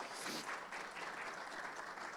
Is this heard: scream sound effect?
no